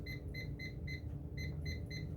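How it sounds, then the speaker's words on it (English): A kitchen timer beeps as it is set, giving a regular series of short, high electronic beeps with a brief pause midway, over a constant low background hum. "get my timer out"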